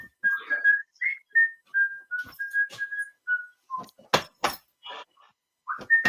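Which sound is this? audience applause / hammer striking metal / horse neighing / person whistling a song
person whistling a song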